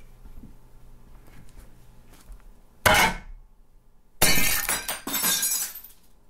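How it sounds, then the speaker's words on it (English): Glass breaking from a drone propeller impact: a sharp first crash, then after a pause a longer, louder shattering burst with tinkling fragments scattering for over a second. "I'm going to get some broken glass sounds."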